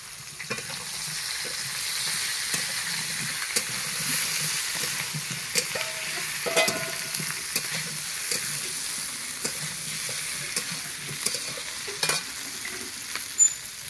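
Vegetables sizzle steadily in a pan with oil, with green chilli and onion added, while a spoon scrapes and taps the pan now and then over a continuous frying hiss.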